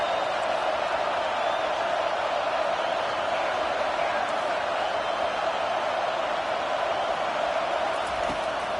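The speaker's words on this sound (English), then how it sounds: "Here comes this home crowd" Home crowd at a college football game between Utah and Oklahoma State, a steady, distant stadium roar of cheering and whooping that holds at an even level throughout.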